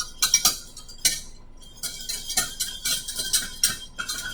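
A spoon stirs a cocoa powder mixture for chocolate gravy in a pan, making irregular scraping clinks and taps against the metal, close up, with brief pauses between strokes and no talking.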